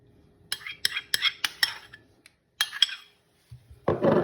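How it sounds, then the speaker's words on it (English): A spoon scrapes and clinks against a dish while herb butter mixture is spread for pizza burgers, giving a quick run of close metallic taps and scrapes, then a brief pause and more rubbing strokes. "Just gonna divide it equally in both of them and then spread it with a spoon."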